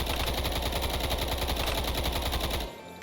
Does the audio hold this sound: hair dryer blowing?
no